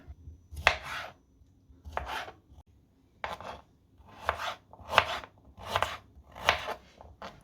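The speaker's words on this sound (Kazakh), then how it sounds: "Осылай жақсылап кесіп алдық." A knife chops ingredients for a homemade cold remedy drink on a board, with about seven crisp, separate cuts spread at an uneven pace, close and clear with no talking.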